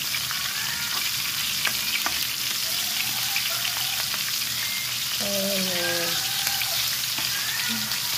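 Tawilis fish sizzling and crackling in hot oil, a continuous close frying hiss with scattered pops; a voice speaks briefly.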